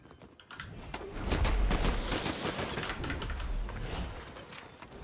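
Rapid Fortnite gunfire, dense clattering shots firing in quick succession, loud and close, building into a sustained volley.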